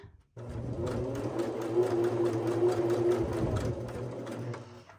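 A sewing machine stitching along rope coils of a rope bowl runs in one steady whirring burst of about three seconds after a sharp start, then slows and stops; fairly quiet, no talk.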